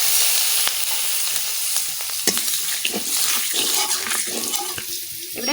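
Garlic fries with fish pieces in a pan, a loud, continuous close-up sizzle with crackling pops and stirring scrapes throughout.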